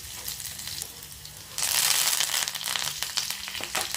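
Green chilies dropped into hot oil with cumin seeds burst into a sudden loud sizzle that jumps up from a quieter background and then keeps hissing and crackling close by.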